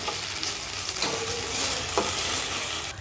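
Ginger garlic paste frying and being stirred in a pan for prawn curry, a steady close sizzle with scraping stir strokes, no talk.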